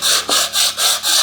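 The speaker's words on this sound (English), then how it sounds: "While sanding it, friends, don't press it too hard" Sandpaper rubs back and forth over a wooden bird house in five even, rhythmic strokes, close and loud, with no voices.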